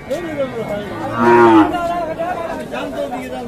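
A cow at a cattle market gives one loud, close moo in the middle, with people talking around it before and after.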